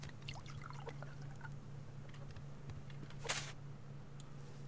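In the survival game Subsistence, a garden bed gets a quick splash of water, one short pouring burst near the end. A constant low hum and faint ticks sit underneath, and nobody speaks.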